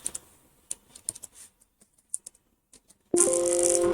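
Computer keyboard typing while entering Visual Basic 6.0 code: scattered, irregular key clicks in short bursts, close and fairly quiet, then a sudden loud steady hum or tone takes over near the end.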